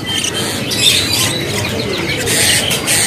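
Perkutut zebra doves and parakeets at a bird market kiosk in Pramuka, chirping and cooing in a dense, steady chorus, close and loud with overlapping calls.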